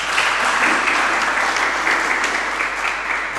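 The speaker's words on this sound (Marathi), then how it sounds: "सर्वांनी टाळ्या वाजवाव्यात।" Steady applause from a seminar audience on biofloc fish farming, dense and continuous throughout as a guest is welcomed with a bouquet, with no voices over it.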